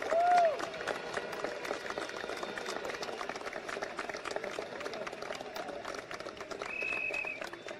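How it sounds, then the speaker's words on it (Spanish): A crowd at a rally for Juan Guaidó in Venezuela applauds the diplomatic corps, a faint, distant wash of clapping with scattered cheers and a few whistles, fairly steady across the stretch. "Y por favor, otro aplauso a nuestro cuerpo diplomático acreditado en Venezuela."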